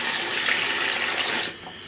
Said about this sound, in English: I'm going to add to it a little bit of water.